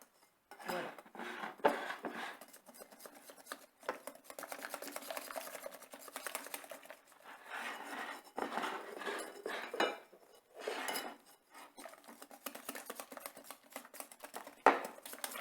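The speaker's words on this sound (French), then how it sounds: "vous allez rajouter petit à petit la farine avec le lait et vous allez mélanger la préparation" Pancake batter of flour and milk being mixed in a bowl, heard as steady clinking and scraping of a utensil against the bowl in irregular bursts, close and fairly quiet, with no talking.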